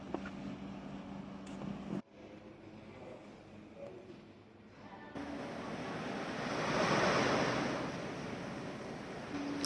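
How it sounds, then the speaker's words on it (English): Ocean waves wash onto the shore at Taormina, Sicily, a soft, steady surf wash with some wind noise, rising gently in the second half after a brief disturbance near the start. "Do you hear the ocean?"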